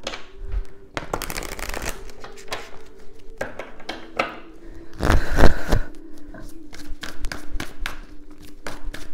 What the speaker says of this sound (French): je vais brasser le jeu